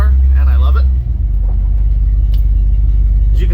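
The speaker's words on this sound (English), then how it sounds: "I do love how this vehicle sounds. It sounds like a muscle car" A 1976 Chevy C10 Suburban engine rumbles with a deep, steady, loud low-end growl like a muscle car, heard from inside the cab while someone talks over it at the start.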